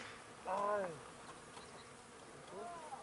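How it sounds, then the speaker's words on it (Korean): Honeybees working a mass of flowers outdoors make a faint buzzing, with two brief louder passes as insects fly near. "이게 지금 꿀벌들이 엄청나게 많습니다."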